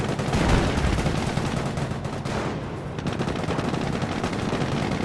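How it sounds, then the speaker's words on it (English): Tank cannon fire and dense gunfire in a World War II video game battle, with a Firefly tank shot striking sandbags amid a loud, continuous crackle of shots and explosions throughout. "the Firefly shot bouncing off the sandbags"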